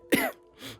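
A person makes a short throat-clearing cough in imitation of a creature, a sharp rasping burst followed by a softer second huff, heard alone and close.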